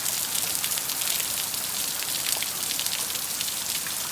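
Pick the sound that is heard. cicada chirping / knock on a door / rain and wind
rain and wind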